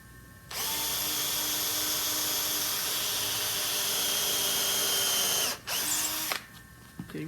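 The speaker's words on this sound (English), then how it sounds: "we're going to drill a hole" A power drill whirs loud and steady for several seconds, briefly cutting out and restarting, then winding down near the end, drilling a hole in a wooden shooting board.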